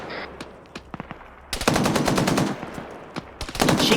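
A .50 cal machine gun firing in a video game, a few sharp separate shots followed by a loud sustained rapid burst, then a brief pause and more fire.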